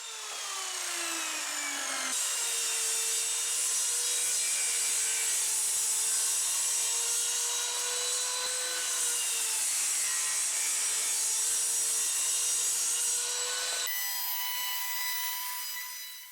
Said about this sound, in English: now I'm cutting board in half